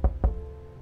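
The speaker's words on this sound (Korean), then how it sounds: "노크 노크 노크 노크" Two quick, solid knocks on a door in the video game Replica, close and fairly loud, followed by a fading tail with no voices.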